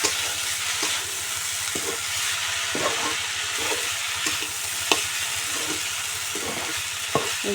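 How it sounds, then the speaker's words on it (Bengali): Taro stems frying with small fish sizzle steadily in a pan while a utensil stirs them, with soft scraping knocks scattered over a constant close crackle. "এখন নেড়ে চেড়ে কচুর ডেগাটা নেব।"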